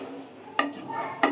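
Cloves, cinnamon and black pepper fry in ghee, a soft steady crackle with two sharp scrapes of a spoon against the pan.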